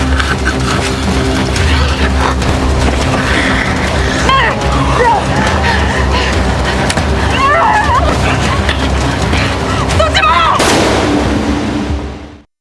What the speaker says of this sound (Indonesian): Yihun mendengar suara tembakan itu.